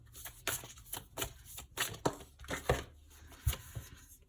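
Cards are shuffled close by in a series of quick riffling bursts, soft crisp flutters with brief pauses between them.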